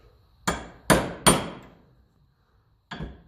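Four sharp hammer strikes tapping a metal part through on a 1954 Ferguson TEF 20 diesel tractor, three in quick succession and one more after a pause, each ringing briefly before fading.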